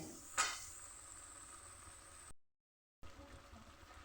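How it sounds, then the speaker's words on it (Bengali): A moong dal mixture is stirred in a wok, a soft continuous sizzle with scraping strokes and one sharp clatter near the start, then a brief dropout before the faint stirring resumes. "এরপরে এটা অনবরত নাড়তে হবে, তা নাহলে কড়াইয়ের তলাতে লেগে গেলে টেস্ট পাবে না।"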